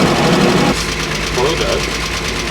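A Unimog truck engine runs steadily off the throttle while rolling down a steep slope, a low continuous rumble with faint knocking texture, loud and close throughout.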